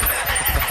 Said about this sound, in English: we're trying to get a bike to start